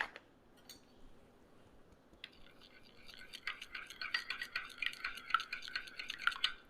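A spoon stirs 1/8 teaspoon of resveratrol powder into a small glass of olive oil, starting quietly and building into soft, rapid clinking and scraping close by.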